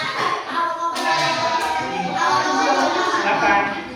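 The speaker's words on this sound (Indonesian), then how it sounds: "Tepuk tangan untuk Mbak." Students in a classroom clap for a classmate after her presentation, a few seconds of scattered, fairly close hand claps with some voices mixed in.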